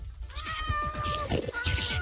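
Cats in a room played as a game sound effect, several loud overlapping meows and drawn-out yowls stacked densely together over a rapid ticking pulse, close and continuous with no talk.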